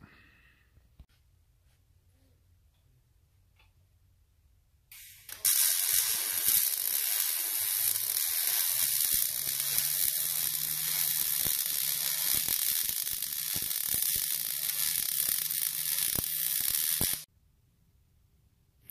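Welding on the upper mounts of a hopper frame gives a loud, steady hiss and crackle for about twelve seconds, starting and stopping abruptly between quiet stretches.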